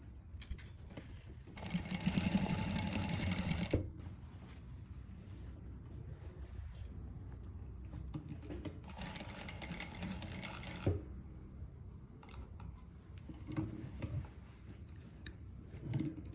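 Sewing machine stitching the holes on a saree blouse, heard in two bursts of steady whirring, a long run then a shorter one, with quiet handling between.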